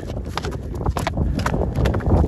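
A stallion running, hooves clip-clopping in a quick, steady rhythm close by, with light wind noise.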